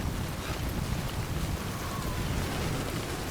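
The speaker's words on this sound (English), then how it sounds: "this rain, I cannot do anything with the wind as well" Steady, dense rain and gusting wind roar without pause in the Death Stranding video game, a constant broadband wash with no voices.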